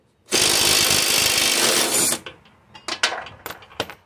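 A power tool spins the blade nut off a John Deere LA120 riding mower deck with a 24 mm socket, a loud continuous whir for about two seconds, followed by sharp metallic clinks and handling knocks.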